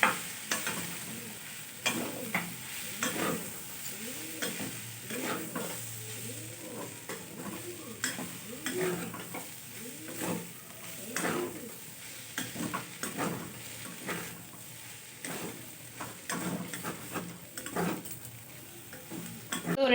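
A pasta mixture is stirred in a frying pan, with rhythmic scraping strokes of a utensil against the metal over a soft sizzle, close by and repeating steadily, no voices.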